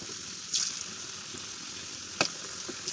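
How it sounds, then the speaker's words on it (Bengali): Potatoes fry in a pan with salt and turmeric, giving a steady close sizzle broken by a few sharp scrapes and clicks of a spatula. "একটু নুন দিলাম, একটু হলুদ দিলাম, দিয়ে আমি লাল করে ভাজছি"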